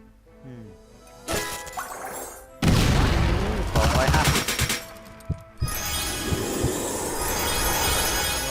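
A burst of heavy explosive blasts and crackling debris in the video game Isekai Quest, loud and dense, followed by sustained rumbling noise with scattered sharp pops.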